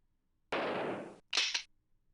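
Two gunshots from hunting in the Oregon Trail 2 computer game: a long, loud rasping blast followed after a short pause by a shorter crackling shot, alone with no talk.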